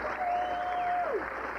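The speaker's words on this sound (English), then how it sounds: "How about a round of applause for Christy Siegel?" Banquet crowd at the 1992 Blythe Speedway awards night applauds for Miss Blythe, California, a soft, continuous wash of clapping with a brief whistle-like tone sliding down near the middle.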